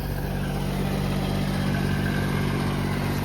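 A tractor driven by landscape technicians on a ravine park trail in autumn, its engine a steady low rumbling drone that stays close and loud throughout, with no voices.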